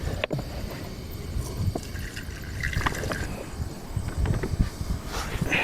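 Water trickles and splashes in uneven bursts as utensils are washed outdoors at a night campsite, moderately close with light clinks and handling noises, and no talking.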